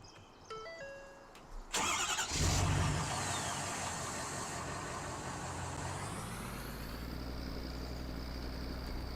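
A pickup truck on a farm cranks and fires up, then settles into a steady running idle that holds loud and even to the end, with a few short electronic beeps before the start.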